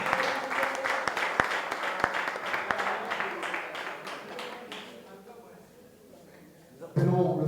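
Applause breaks out at a press conference: a dense patter of clapping from a crowd that fades over several seconds, with a sudden louder burst of noise at the end.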